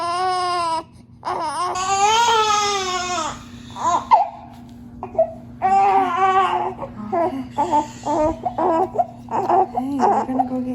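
A baby boy cries in repeated wailing bursts, close and loud, with short pauses and sobbing breaths between the cries.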